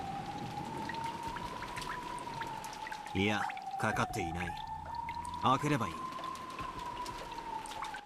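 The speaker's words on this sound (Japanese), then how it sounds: "中から水音が聞こえます。" A shower runs steadily behind a bathroom door in the visual novel Umineko: When They Cry, a continuous watery hiss that lasts the whole clip under a sustained musical tone, while a voice speaks in the middle.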